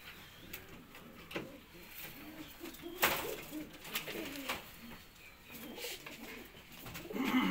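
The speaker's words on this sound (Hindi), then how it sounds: "ये ऊपर उड़ने वाले कबूतर है माशाल्लाह" Domestic pigeons, kept as high-flying birds by a fancier, coo in soft, low, repeated calls close by, along with scattered light clicks and rustling.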